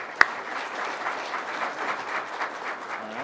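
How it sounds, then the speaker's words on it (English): An audience applauds a speaker named Matthew at a data-driven culture and observability talk, a steady, moderate wash of clapping after one sharp louder clap at the start. "Let's all give a big round of applause for Matthew."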